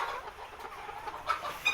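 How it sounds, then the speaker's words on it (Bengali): Layer hens in a poultry shed give soft, low clucks close by, a faint murmuring flock sound with a couple of sharper calls toward the end. "দেখেন এখানে একটা লেয়ার মুরগির শেড কত সুন্দর করে ঘর করছে"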